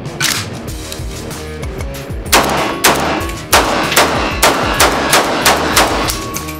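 A gold-finished AK-47 rifle chambered in 7.62x39 fires in an indoor basement range, a run of sharp loud single shots spaced roughly half a second to a second apart, close and echoing.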